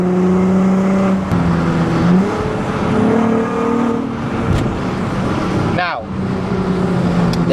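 A Volkswagen Golf MK5 R32 engine drones steadily while driving on open roads, shifting pitch through gear changes, with a quick rising rev near the end and road noise underneath.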